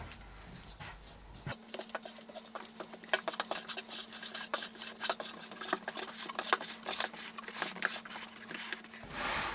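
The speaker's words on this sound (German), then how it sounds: "Und schraube die fest." Parts of a cat scratching-post module being screwed tight by hand, a steady run of close rasping, scraping turns with a low hum underneath throughout.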